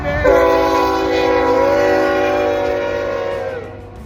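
A long freight train rolls past close by while its horn blasts a sustained multi-tone chord for several seconds, the blare steady and loud before tapering off near the end, with no talking over it.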